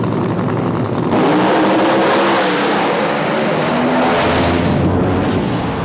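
A drag race car from a muscle car garage build roars loud and close, its engine revving and accelerating hard with a dense, continuous snarl that swells and shifts pitch over several seconds, no talking.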